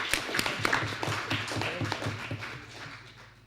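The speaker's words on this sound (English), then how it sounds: "Clap for my MP." An audience at a policy conference in Kenya on supporting people who use drugs gives a short round of close, rhythmic clapping that fades toward the end.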